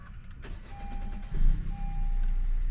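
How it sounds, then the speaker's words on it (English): A car, a Civic Si just back from an oil change, starts up with a short rising crank, then settles into a steady idle, close and fairly loud, with a faint electronic chime tone. "Car on."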